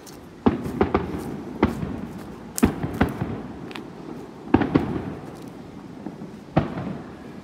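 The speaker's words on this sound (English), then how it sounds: "Somebody's shooting off fireworks." Fireworks going off near a trail in Changhua, Taiwan: a scattered series of sharp, distant pops and bangs, about eight in irregular rhythm, each with a short echoing tail over quiet outdoor background.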